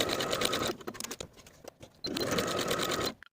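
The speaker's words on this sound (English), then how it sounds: "Sew the shoulders at a 5/8 inch seam allowance and press the seams open." A sewing machine stitching the shoulder seams of a ruffled statement top, a steady close whirring run that pauses briefly with a few clicks before the motor starts up again for another fast burst.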